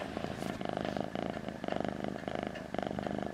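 A domestic cat purrs close up, a loud rhythmic rumble that swells with each breath in a steady cycle of about four pulses, with no talking.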